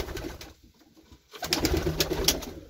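Pigeons cooing in a loft at dusk, a soft near cooing with some rustling and movement, rising in the second half after a brief quieter lull.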